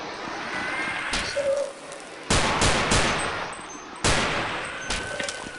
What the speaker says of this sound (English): Trying to not waste any ammo.